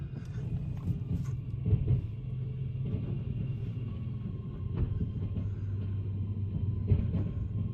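A Fiat 850 is loaded onto a car transporter with a low, continuous rumble of engine and machinery and occasional heavier thumps, nearby and without speech.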